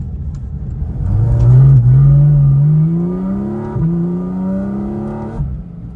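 A high-end sports car engine revs hard, rising in pitch to a loud peak before easing off and then climbing again, close and clear, with no talk over it.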